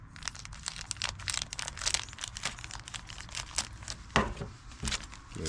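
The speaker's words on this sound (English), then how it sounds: "And we're just gonna take our scissors." Scissors snip through a plastic grow bag holding a morel mycelium cake, giving close crinkling and crunching plastic sounds in an irregular run, with a couple of sharper cuts near the end.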